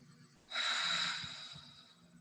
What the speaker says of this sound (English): So just taking some deep breaths.